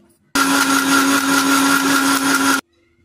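A mixer grinder whirs loudly and steadily for a couple of seconds while blending raw mango juice with salt, black salt and cold water, starting and stopping abruptly with silence on either side.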